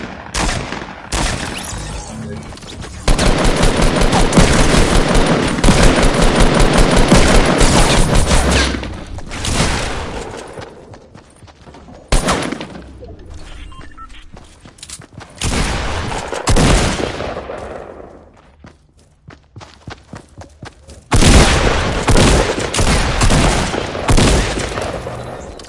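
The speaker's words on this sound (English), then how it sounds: "I'm getting shot at." Dense video game gunfire, sustained bursts of automatic shooting with heavy booms that come in long loud stretches, break off into quieter gaps, then resume loudly near the end.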